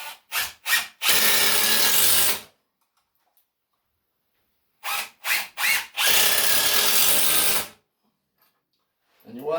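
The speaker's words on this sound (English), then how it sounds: "2-inch screws and I'm going to screw that onto there. And I'm going to put these screws in at an angle." A power drill drives 2-inch screws into wood at an angle while building a shaving horse, in two bursts each made of short trigger blips followed by a longer sustained whir, separated by silence.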